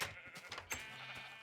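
A Minecraft sheep bleats in a short, wavering cry, repeated a couple of times up close against a quiet background.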